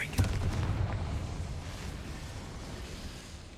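A Confringo fire spell goes off in a Hogwarts video game, a sharp booming blast that opens the clip and then fades into a long rumbling tail.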